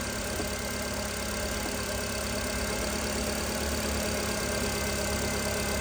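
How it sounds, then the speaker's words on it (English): A Nissan Sentra 1.8 L engine runs under the hood with a steady mechanical hum and faint knocking vibration, heard close and unbroken throughout with no voices. "I'm gonna go rev up the motor"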